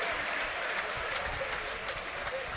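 A football stadium crowd at Burnley v Brentford holds a minute of applause, a broad, even wash of distant clapping from thousands of fans running throughout without a break.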